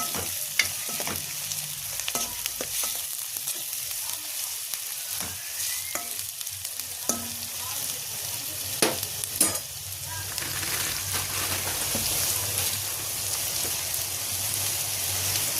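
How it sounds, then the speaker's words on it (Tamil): Onions sizzle in hot oil with cinnamon in a pan for paneer gravy, a steady crackling hiss broken by occasional spatula scrapes and clinks, close up and without talk. "கட் பண்ணி வெங்காயத்தை போட்டுக்கலாம். நல்லா வதக்கிக்கலாம்."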